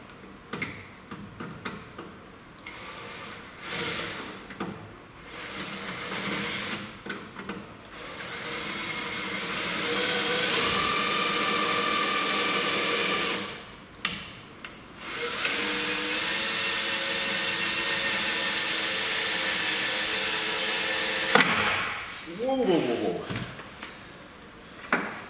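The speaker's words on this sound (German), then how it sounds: "Weil hier müssen wir noch ein bisschen aufbohren." A drill enlarges a hole in a second-generation Dacia Sandero Stepway during a car speaker upgrade. Two sustained, fairly loud whirring runs of several seconds each alternate with handling clatter and a little voice nearby.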